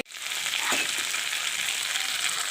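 Tomato paste hits a hot pan for a paneer curry gravy, setting off a loud, steady sizzle that starts abruptly and keeps hissing evenly close by, with no voices.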